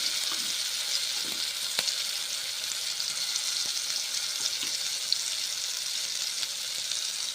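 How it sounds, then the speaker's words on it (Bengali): Whole spices sizzle steadily in hot oil in a home kitchen, a dense, even hiss with a few faint clicks and taps of a utensil, close and continuous with no talking. "তেল গরম হয়ে গেছে, মশলা ছেড়ে দিচ্ছি।"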